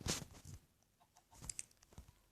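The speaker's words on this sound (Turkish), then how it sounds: "Tavuk." A Minecraft chicken gives a short burst of clucks, a sharp cluck at the start and a couple more a second or so later, clear and close with no voices.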